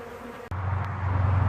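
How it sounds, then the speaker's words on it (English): Bees removed from a tree drone in a dense, continuous buzz close by at a hive, rising suddenly after a sharp click and holding steady without any talking. "Well, there's the hive, and the bees are going in."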